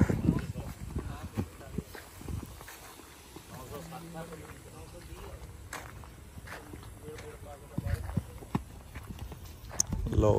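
Hooves of a stallion clip-clopping at a walk in a Punjab village, steady moderately close steps mixed with crowd noise and people talking throughout.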